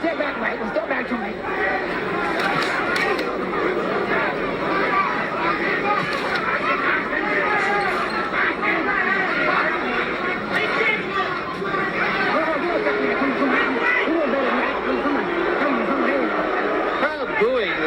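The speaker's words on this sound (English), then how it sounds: "Crowd booing the tactics of Tony Tucker" A heavyweight championship boxing crowd, Mike Tyson versus Tony Tucker, fills the arena with a dense, steady roar of voices and booing that holds at a constant level throughout.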